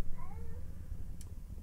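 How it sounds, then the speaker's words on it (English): A cat gives a single short meow near the start, moderately clear over a low rumbling background, followed by a brief faint click. "Here comes a cat."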